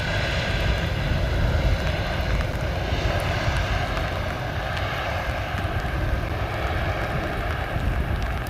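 Boeing 777 airliner landing at Amsterdam Schiphol Airport, a loud, steady broadband engine roar with windy rushing that holds level throughout, heard from outdoors with no talking.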